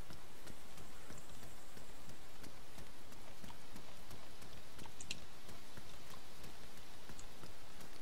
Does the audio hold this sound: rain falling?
yes